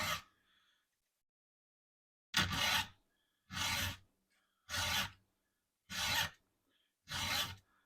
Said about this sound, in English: hopefully I'll have some good results hand filing this out